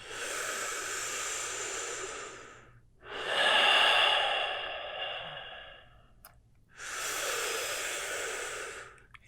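Slow, deep yoga breathing during a flowing practice: three long, airy breaths, each several seconds long and separated by brief quiet gaps, close and clear with no talking.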